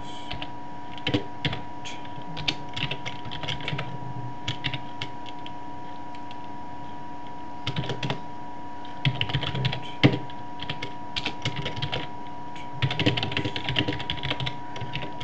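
Code being typed on a computer keyboard: steady clusters of close key clicks with short pauses between runs, over a faint constant hum.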